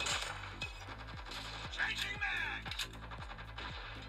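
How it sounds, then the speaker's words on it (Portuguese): Gunfire in a mobile shooter game played on a Redmi Note 12 pops in a steady, regular series of sharp shots, with ringing metallic game effects layered over them. "Tem alguém atirando daqui?"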